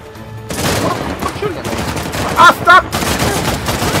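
Sustained gunfire in the video game Uncharted: The Lost Legacy, a loud rapid burst of shots continuing throughout, with a voice shouting briefly over the shooting.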